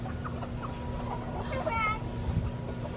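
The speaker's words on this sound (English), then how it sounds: "So I let a couple chickens out" Backyard chickens cluck in short, scattered bursts at moderate distance over a steady background hum, with a brief higher rooster-like call partway through and light voices in the background.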